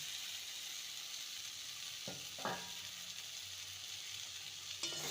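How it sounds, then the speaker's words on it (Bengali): Fried potatoes and pointed gourd tipped into a sizzling spice paste in a pan, a constant faint hiss with a couple of brief scraping thuds as the pieces go in. "এবারে ভেজে রাখা আলু পটলগুলো দিয়ে দেবেন"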